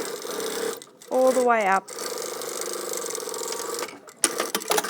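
A sewing machine stitches a trouser fly front in a steady whirring run, with a brief rising mechanical whine partway through and a person talking over it.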